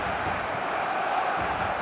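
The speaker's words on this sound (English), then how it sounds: "Crowd appreciates good football all round there" A football stadium crowd responds to a good attacking run with a steady, loud roar of cheering and applause throughout, broad and washy, with no distinct voice standing out.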